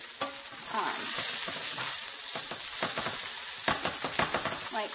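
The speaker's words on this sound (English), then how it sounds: "I'm caramelizing the onion and the green pepper" Onion and green pepper caramelizing in a hot pan give a steady, close sizzle and crackle, broken by scraping stir strokes, with brief talk over the frying.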